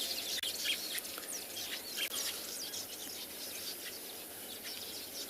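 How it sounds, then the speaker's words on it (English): Breeding birds in the South African bush at morning, many chirps and calls overlapping in a busy chorus at moderate distance, with faint insect buzzing beneath. "The cacophony of sounds, the breeding birds making their nests and attracting the females."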